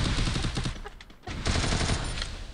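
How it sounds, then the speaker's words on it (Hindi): Gunfire in the Free Fire battle royale video game, two bursts of rapid automatic shots close and loud, separated by a brief lull. "आज कौन सी गन है जिसके अंदर धड़ाधड़ गोलियां निकले"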